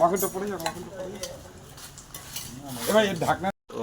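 Crab being sautéed in a pan over a flame, with scraping spatula strokes, clinking metal and a light sizzle, under loud nearby talk.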